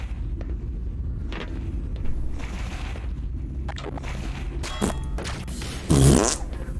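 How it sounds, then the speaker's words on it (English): A video game fart sound effect in Black Mesa squelches briefly near the end, loud and low, over a steady murmur of game ambience. "Haha, fart sound."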